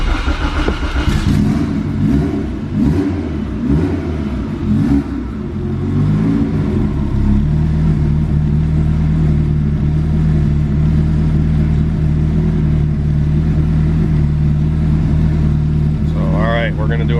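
A 600-plus-horsepower turbocharged Integra GSR engine runs on a dyno, starting lower under talk, then settling into a loud, sustained revving drone with a steady pitch.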